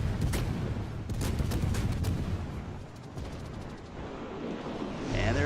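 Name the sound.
naval gunfire in the video game World of Warships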